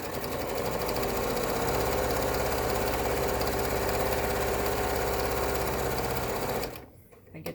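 A sewing machine runs a steady, continuous back stitch up close, its motor whirring evenly for several seconds before stopping abruptly near the end.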